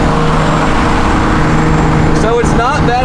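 A turbocharged 1JZ engine swapped into a Nissan S13 drones steadily at highway speed with a deep, truck-like rumble and constant road roar, heard from inside the car throughout with no break.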